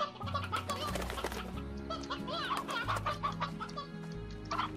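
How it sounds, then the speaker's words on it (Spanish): Chickens cluck continuously in the video game Slime Rancher, a busy overlapping chorus of clucks and squawks over steady background music. "Pollito Petro, pollito, gallina Petra"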